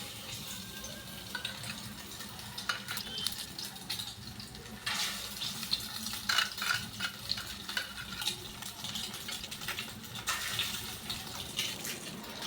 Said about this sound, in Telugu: ఎగ్ సోనాలోన ఇప్పుడు డిప్ చేసినవి లైట్గా ఫ్రై చేసుకుందాం